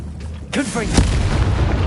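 A Confringo blasting spell explodes in Hogwarts Legacy with a sudden loud boom about halfway in, preceded by a brief whoosh, then a low rumbling tail.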